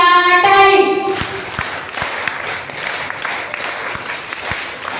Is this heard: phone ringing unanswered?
no